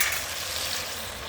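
Green chili, dry chili and panch phoron fry in hot oil, giving a brief, bright hissing sizzle that starts loud and fades slightly, close up and without talk.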